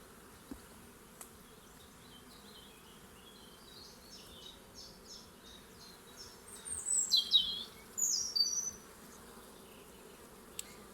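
Honeybees hum and buzz inside a small nucleus hive that has turned drone-laying, thick with drones; a soft steady drone sits low throughout, with a louder, closer burst of buzzing rising near the end.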